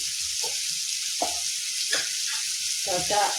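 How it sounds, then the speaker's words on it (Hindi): Bottle gourd frying with red chilli powder in a pan, a steady bright sizzle broken by several soft scraping stirs, close and moderately loud with no talk. "ललका मिरचाई के बुकनी दऽ कऽ कनि एकरा भूजि देबै"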